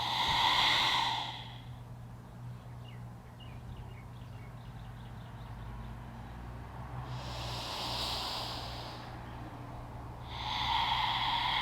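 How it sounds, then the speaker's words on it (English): Deep, slow breaths during a yin yoga hip session, broad airy exhales swelling at the start and end with a quieter stretch between, close and steady over a low background hum. "Deep breathing here."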